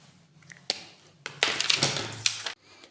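Scissors cut a paper bikini sewing pattern with crisp snips and papery crunches, including one longer cutting stretch. The sounds are close and are separated by short pauses.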